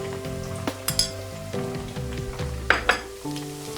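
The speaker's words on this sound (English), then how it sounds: "Now fry it till it breaks off in the oil." Tinned tomato frying in hot oil for Nigerian jollof rice, a close steady sizzle with a few spoon clinks and scrapes against the pot.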